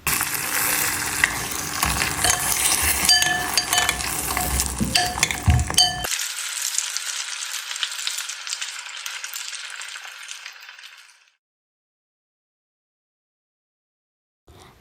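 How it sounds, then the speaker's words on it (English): Fried sweet cheese samosas are dipped and stirred in sugar syrup, with close sizzling and wet stirring and clinks for about six seconds, then a fainter bubbling hiss that fades to silence. "Dip the samosas into the sugar syrup,"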